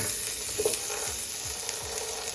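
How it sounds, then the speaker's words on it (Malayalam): Marinated chicken shallow-fries in butter in a pan, giving a steady close sizzle with a light stir or scrape, and no voices. "ബട്ടറിൽ തന്നെ ഫ്രൈ ചെയ്യാൻ ശ്രമിക്കുക മാക്സിമം ഒന്നാകെ മുക്കി പരിക്കേണ്ട ആവശ്യമില്ല ഒന്ന് ഷാലോ ഫ്രൈ ചെയ്താൽ മതി"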